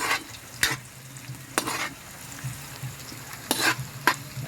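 Liver and gizzard frying in a pan for pansit, a steady close sizzle broken by a few scraping stirs, with no voices.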